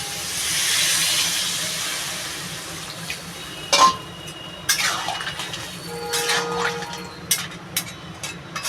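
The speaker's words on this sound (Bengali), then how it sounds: "পরিমাণ মতো জল দিয়ে দেবো" Water poured into a pan of simmering crab and bottle gourd curry, a steady hiss of steam and liquid with a few sharp clinks and splashes toward the end.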